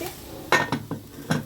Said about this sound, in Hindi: अब हम इसमें ढक्कन लगा देंगे।